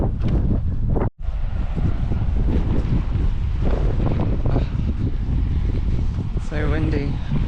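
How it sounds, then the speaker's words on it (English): Loud, steady wind buffets the microphone throughout, a constant roaring rush with no letup. "So windy."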